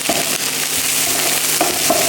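Chopped green chili and garlic hit hot oil in a pan, a loud, close, continuous frying sizzle with crackling pops and brief stirring scrapes, no talking.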